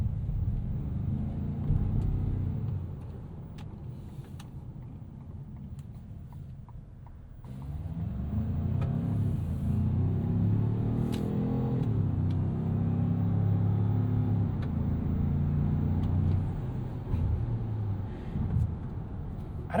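A 2025 Ford Maverick Lobo turbo compact street truck heard from inside the cabin while commuting, its engine a low grunty rumble that dips briefly then swells as it accelerates, steady and close with road noise underneath.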